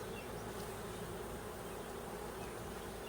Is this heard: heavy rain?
no